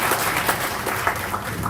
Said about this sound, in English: a round of applause to them too